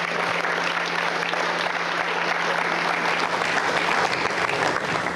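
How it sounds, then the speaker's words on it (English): A crowd at an Ariane 5 launch event applauds the launch team with dense, sustained clapping that stays loud and even throughout, with a steady hum underneath. "So I would like really to have a round of applause for them."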